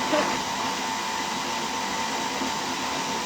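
A blender whizzes wild garlic leaves with lemon juice and olive oil, giving a steady, loud whirring roar that holds evenly for a few seconds with no break.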